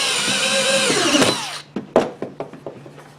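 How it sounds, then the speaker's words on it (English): A power drill drives screws into wood while a silkscreen shop is being built: a loud, close whine rises for about a second and a half, then stops and gives way to a handful of sharp knocks and clatters. "So I drove screws in just in the middle"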